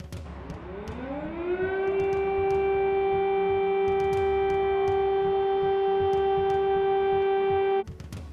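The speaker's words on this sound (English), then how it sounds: "Sirens ringing in Kiev marked the start of a war in Europe on 24th February." An air raid siren in Kyiv winds up from a low moan to a loud, steady wail and holds the tone for several seconds before cutting off near the end, with faint background noise beneath.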